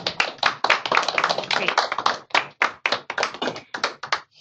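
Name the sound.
applause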